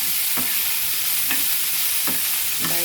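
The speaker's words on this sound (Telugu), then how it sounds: "పచ్చిమిర్చి కూడా వేసుకున్నాము" Green chillies fry in a pan with a steady close hiss, broken by three or four spaced scraping strokes of a spoon stirring them; no one speaks.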